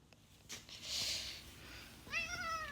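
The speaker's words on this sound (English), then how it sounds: "Oh, kitty cat." A stray cat wandered indoors and meows once near the end of the clip. It is a clear, close, rising cry that follows some quiet household knocks.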